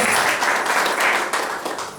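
A church congregation applauds throughout a Sunday worship service, a dense, steady wash of many hands clapping at close range with no pauses.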